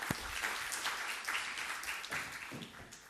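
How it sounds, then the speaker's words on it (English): An audience at an international conference applauds a group of students, a faint, steady patter of many hands clapping at a distance, even and continuous. "Please join me to applaud these distinguished students."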